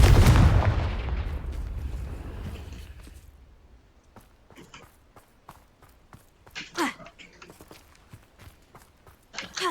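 A Confringo fire spell erupts in Hogwarts Legacy: one loud, booming blast whose rumble fades over a few seconds, followed by quiet, scattered footsteps and light impacts.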